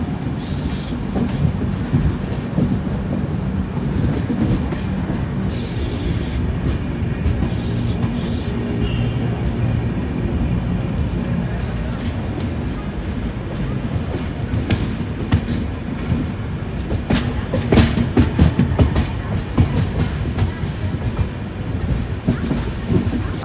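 Inside the Swarna Jayanti Express on an AC 2-tier journey, a steady rumbling roar of wheels on rails with rhythmic clickety-clack and occasional metallic squeals, loud and continuous.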